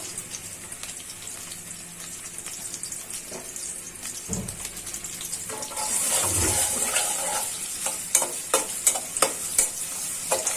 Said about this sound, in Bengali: পেঁয়াজটা ভাজা হয়ে যায়